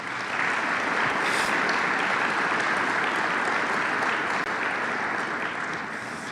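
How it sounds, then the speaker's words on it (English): Steady, sustained applause fills a large hall at a city State of the City address in Sioux Falls, an even wash of many hands clapping with no pauses. "Rabbi Mendel, give him a round of applause."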